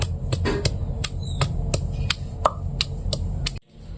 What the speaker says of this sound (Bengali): রসুনগুলি আমি থেতো করে নিব